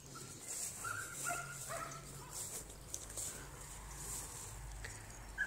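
Dogs bark, yip and whimper faintly in the distance outdoors in an apple orchard, short scattered calls over a steady low background hush.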